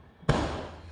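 A single sharp firework bang bursts out at a midnight celebration, loud and near, then its echo rings and fades over the following moment.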